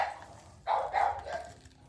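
A dog at home gives three short barks in close succession after a quiet moment, fairly near and moderately loud, with nobody talking.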